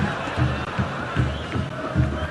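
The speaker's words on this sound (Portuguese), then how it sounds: "E a torcida do Vasco não para de incentivar o time" Vasco fans in a stadium crowd roar with steady cheering and rhythmic, swelling chants that pulse about every second, a dense distant wall of voices.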